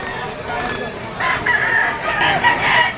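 A rooster crows at the Malabon pet market, a close, loud call rising over busy market background noise with a voice faintly present.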